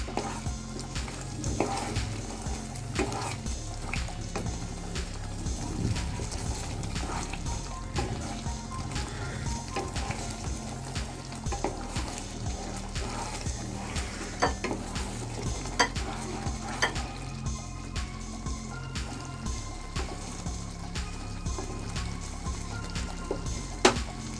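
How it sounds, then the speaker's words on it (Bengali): Mango chutney with cashews and raisins boiling in a pot, with a continuous bubbling sizzle and frequent close clinks and scrapes of a spoon stirring against the pan, no talk. "এবার আমরা কাজু আর কিশমিশগুলো দিয়ে দেবো এর মধ্যে। দিয়ে আর 2 মিনিটের মতন ফুটিয়ে নেব।"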